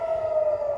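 An air raid siren in Tel Aviv holds a steady, sustained wailing tone, loud and alone throughout the brief moment.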